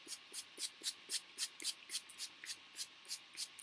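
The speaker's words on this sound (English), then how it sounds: "Spray as much as you can." A spray bottle of hair detangler pumped again and again in a quick, steady rhythm, each short hissing mist burst soft and close.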